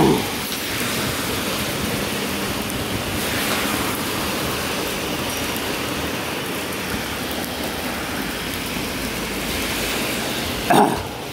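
Heavy rain pours in a steady, dense hiss close by outdoors, filling the whole stretch with no pauses, with a brief knock near the end.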